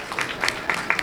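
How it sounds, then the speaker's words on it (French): Scattered hand claps ring out at a school ceremony as people applaud the staff, a few sharp separate claps in quick, uneven succession. "S'il vous plaît, applaudissez-les."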